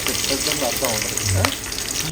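Curry leaves and asafoetida crackle and sizzle in hot oil while tempering Guntur-style ginger pickle, a steady loud frying hiss with sharper spits and a brief voice speaking over it.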